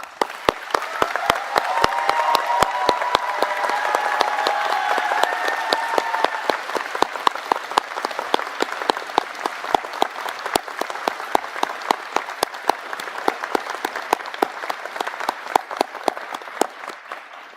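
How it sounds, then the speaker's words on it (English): At a Sheridan College convocation, the audience applauds the faculty with long, steady clapping. Voices murmur through the crowd early on, and the applause gradually thins into scattered, distinct claps toward the end. "Everyone, please join me in applauding your faculty for their commitment and support"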